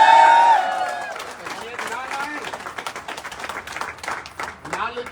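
Audience clapping at an Audi car achievement celebration, a burst of applause mixed with crowd noise under a loud voice speaking throughout.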